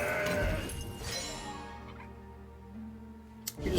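In the digital card game Legends of Runeterra, a goat gives a short bleat at the start, followed by quieter game effects and a sharp click near the end.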